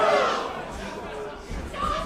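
Capacity crowd at a wrestling event in the O2 Academy, a steady roar of cheering and chatter with swells at the start and end, while a commentator talks over it.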